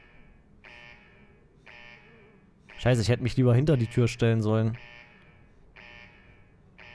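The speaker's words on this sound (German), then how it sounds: "Warum ist denn da jetzt ein Alarm an?" An alarm goes off in Ghost Recon Wildlands as a repeating electronic beep in evenly spaced pulses, each close to a second long. Someone talks loudly over the middle stretch while the beeping continues around him.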